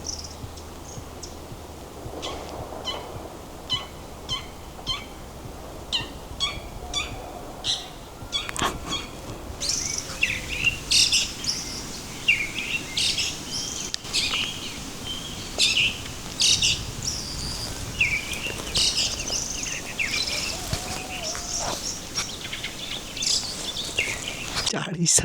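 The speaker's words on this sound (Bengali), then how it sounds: "চারি সাইড দিয়ে আমি পাখির ডাকি শুনতে পাচ্ছি" Birds calling from all sides along a solo mountain trek trail, rapid repeated chirps and tweets mixed with other calls over a steady insect-like background hiss, some near and some farther off, with no talking.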